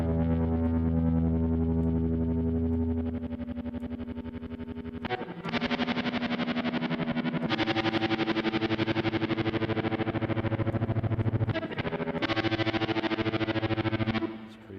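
A guitar played through an effects unit set to very fast tremolo, the sustained distorted chords chopped into a rapid, fluttering pulse. The chords shift a few times and ring alone with no talk.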